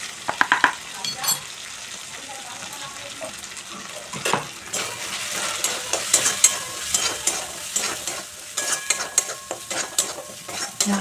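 Spices with turmeric and Kashmiri chili powder frying in a pan for a kochu shak dish, a steady sizzle under repeated stirring scrapes, close and fairly loud, with no talk.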